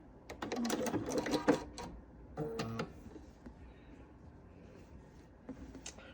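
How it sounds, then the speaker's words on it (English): A domestic sewing machine stitches quilt pieces for a Hunters Irish Chain quilt in rapid mechanical bursts, a long run then shorter runs with pauses between, close and fairly quiet. "I'm going to sew the whole thing finished"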